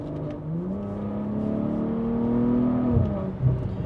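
A BMW B58 engine on an MHD Stage 2 tune pulls in sport mode, a steady drone rising in pitch, then dropping with a shift and a couple of quick pops near the end, heard from the cabin.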